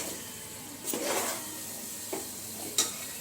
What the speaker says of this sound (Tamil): தீ பிடிக்கும், அதனால கொஞ்சம் கலரி விட்டுட்டே இருக்கணும்.